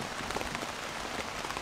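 Rain patters steadily on the fabric of a Seek Outside Cimarron tent, a dense, even drumming heard from close by.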